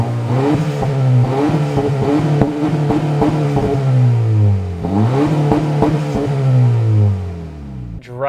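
A 2023 Acura Integra A-Spec with a six-speed manual revs up through the gears, the engine note climbing repeatedly and dropping at each shift, loud and close with a brief pause between runs.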